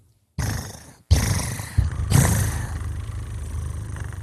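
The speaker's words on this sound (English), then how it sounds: "About a cat's purr." A cat purrs in a low, steady rumble, close and fairly loud. The sound comes in several abruptly cut segments, with no talking.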